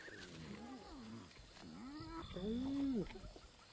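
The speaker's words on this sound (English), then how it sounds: "Hyenas are ripping an impala kill apart." Hyenas tearing at a stolen impala kill on the African savanna, with rising and falling whoops and groans overlapping, louder near the end, over a busy wild background.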